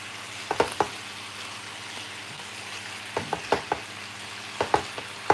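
Adobo cooking in a pan gives a soft, steady sizzle and bubbling, broken by a few sharp clinks and scrapes of a utensil stirring, with no voices.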